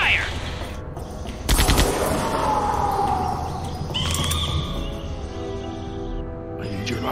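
Gunfire erupts in Jurassic Park: The Game as a loud burst of rapid shots around the two-second mark, followed by steady rumbling background noise and fainter scattered sounds through the rest of the scene.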